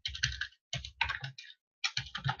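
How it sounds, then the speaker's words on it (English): Computer keyboard typing while entering a math problem into an online calculator, heard close as quick bursts of clicking keystrokes separated by short pauses. "I do not know what's happening to my typing today."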